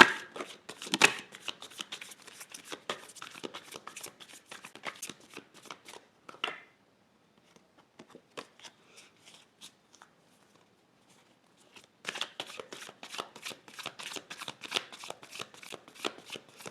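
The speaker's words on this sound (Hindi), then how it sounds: "ओके, तो चलिए कार्ड्स को शफ़ल करते हैं।" Tarot cards being shuffled in bursts of quick, crisp riffling and slapping, close and clear. The shuffling runs for about six seconds, pauses to near silence with faint handling, then resumes.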